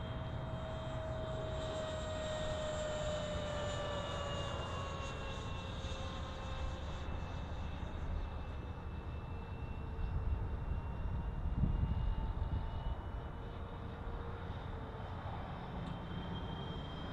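An E-flite F-16 RC jet makes a flying pass with its afterburner unplugged, its steady whining ducted-fan tone sliding in pitch and swelling briefly near the middle of the pass before easing away.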